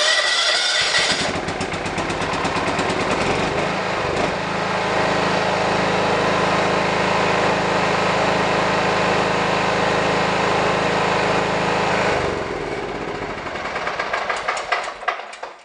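A John Deere 175 lawn tractor engine cranks, catches, and runs at a loud, steady idle nearby for about ten seconds before being shut down, followed by some clattering handling noise.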